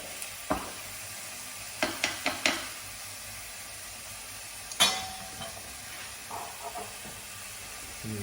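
Flour is stirred into sautéed onions in a pan for hake in green sauce, a low steady hiss of cooking broken by several sharp scraping strokes and clacks of a utensil against the pan, no talking.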